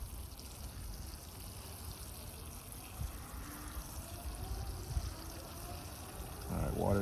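Water poured from close by onto bonsai soil in a pot of an acacia, a soft, steady trickle over faint background hiss, ending in a louder splash.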